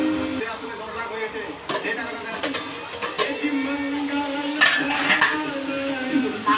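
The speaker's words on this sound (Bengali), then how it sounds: "এবার আমি এটাকে কষবো একটু ঢেকে ঢেকে ঢেকে ঢেকে আমি কষে নিচ্ছি।" Chicken being sautéed with spices in a covered pot for a chicken and potato curry, with repeated metal clinks and scrapes of a utensil against the pot over a low sizzle, and a voice talking at times.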